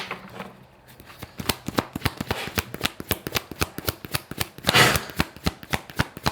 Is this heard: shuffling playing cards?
yes